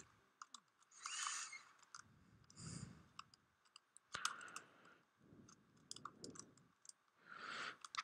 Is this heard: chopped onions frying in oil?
no